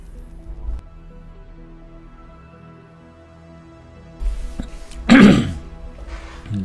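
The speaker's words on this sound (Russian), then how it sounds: "Как я чихнул, чуть глаза не вывалились." A person sneezes once, a single loud, sharp burst standing out above a quiet, steady background of soft music and hum.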